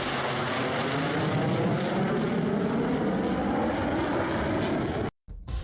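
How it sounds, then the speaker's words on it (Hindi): F-16 fighter jet taking off from a tarmac, a loud sustained engine roar that holds steady and then cuts out abruptly near the end, with no voices. "फिर F-16 की उड़ान भी शुरू हो जाती है"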